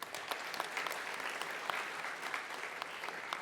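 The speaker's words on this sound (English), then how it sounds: "Please give a round of applause to Vidu." A conference audience applauds at an event on AI in practice at Amsterdam companies, a dense, sustained clapping from a seated crowd, steady and moderately distant with no speech on top.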